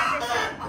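A brief, strained rooster crow cuts in, a single hoarse call lasting under a second, fairly close.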